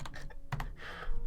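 Rapid computer keyboard typing in a short burst of uneven clicks and taps, close and moderately loud, with no one talking.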